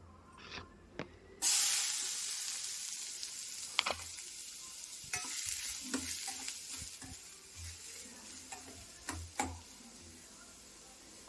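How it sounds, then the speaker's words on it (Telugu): Onions frying in a kadai, a steady close sizzle with occasional stirring clicks and scrapes, no talk. "ఇప్పుడు అదే కడాయిలో ఆనియన్స్ కూడా మనం ఫ్రై చేసుకుందాం."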